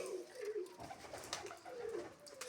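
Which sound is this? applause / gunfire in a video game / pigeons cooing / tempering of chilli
pigeons cooing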